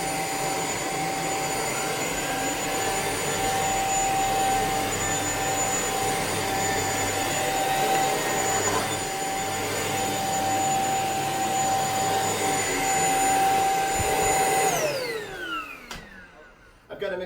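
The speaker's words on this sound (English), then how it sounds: "this can get into places that a lot of other vacuum cleaners can't" A Shark Apex Uplight vacuum cleaner runs with a loud, steady whine and roar, holding constant before the motor winds down and cuts off near the end.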